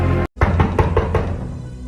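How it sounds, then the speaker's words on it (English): Knocking on a door at home: a sharp opening knock, a brief silence, then four quick even raps, close and loud, with no voices. "Who's at the door?"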